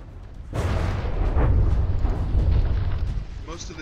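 Cannon shells in the From the Depths naval game fire and strike with a sudden heavy boom, followed by a rolling, crackling roar of explosions and debris, with a voice faintly beneath.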